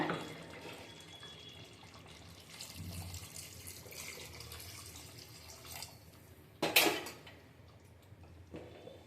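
Water is poured into a pan of cooked mutton masala for a village-style mutton sambar, giving a soft ongoing splash and gurgle with a louder gush late on.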